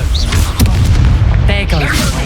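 Explosive Confringo spell blast in Hogwarts Legacy, a loud booming burst amid continuous combat effects, with game sounds layered throughout.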